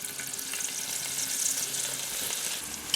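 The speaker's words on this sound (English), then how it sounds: "Stir that up in the pan a little bit." Ginger and garlic frying in a pan for mild butter chicken, a steady close sizzle under light stirring, with no one speaking.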